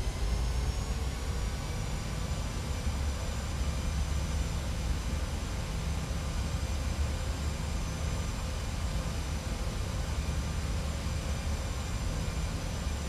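Boeing 737-700 jet engines in FSX: a steady, dense roar with a faint whine holding level throughout, with no pauses.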